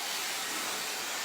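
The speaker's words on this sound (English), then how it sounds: "And I'm gonna blow dry my hair today." A handheld blow dryer runs continuously while drying hair, a loud, even, breathy whoosh held steady with no voices over it.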